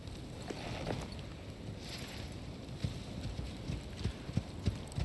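In the survival video game Icarus, a ridden horse's hooves clip-clop at a steady walking rhythm over a soft, windy outdoor bed. The hoofbeats are quiet and moderately distant, with no talking.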